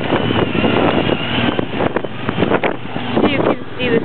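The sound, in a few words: strong wind at desert campsite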